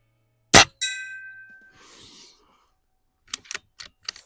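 At an outdoor shooting range, a single gunshot strikes a steel gong target: one sharp crack, then a bright metallic ring that fades over about a second, followed by a few faint clicks.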